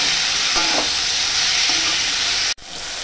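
Onion, tomato and slit green chillies frying in a pan for a boal fish dish, a steady close sizzle with occasional stirring scrapes and a brief break near the end.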